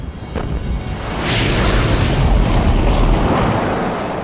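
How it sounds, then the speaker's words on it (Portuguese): A powerful explosion rips through a passenger plane in a documentary reenactment: a low rumbling boom swells after a second into a sustained roaring blast with a hissing whoosh, loud and continuous before slowly easing off. "o que poderia ter causado uma explosão poderosa o bastante para destruir um avião de passageiros?"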